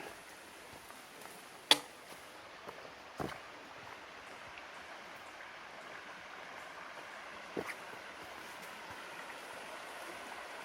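Steady brook water flowing by a footbridge on the west branch of the Deerfield River, a continuous broad rush with a few brief sharper splashes or knocks standing out, heard alone without voices.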